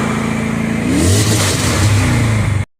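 An Infiniti FX45 V8 engine idles and then revs up and settles after a jump start, a steady close rumble with a rising surge midway before cutting off abruptly.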